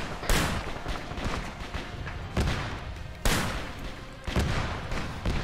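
Gunshots from a video game battle, four or five loud sharp reports spaced about a second apart, each trailing into rumbling echo over a continuous noisy background.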